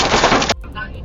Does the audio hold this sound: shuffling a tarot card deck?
no